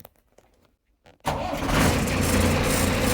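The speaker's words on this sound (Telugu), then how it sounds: "ఓ ఒకటే సెల్ఫ్ స్టార్ట్ అయిపోయింది ఫ్రెండ్స్. నా బండికి అయితే కిక్కర్ కూడా అవసరం లేదు, ఒకటే సెల్ఫ్ అయితే స్టార్ట్ అయిపోయింది." A Tata truck engine, idle for four days, self-starts after a few quiet clicks and knocks, catching abruptly and settling into a loud, steady diesel idle close by.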